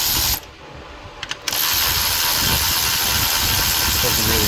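A hand ratchet clicks steadily in a fast, close, loud run of ratcheting as a 10 mm socket works engine bolts loose while removing the knock sensor on a 2012 Acura TL J-series V6, with a short pause near the start.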